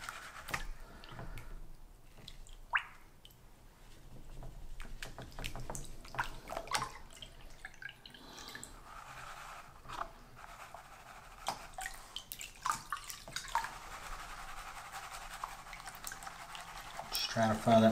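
Water sloshes and swirls in a gold pan during gold panning in Alaska, soft irregular splashes and drips close by, with intermittent quiet talk over them.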